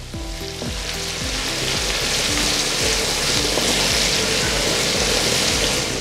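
Green peas and vegetables with salt sautéing for vegetable pulao, a loud continuous close frying sizzle with a soft stirring scrape underneath, with no talk.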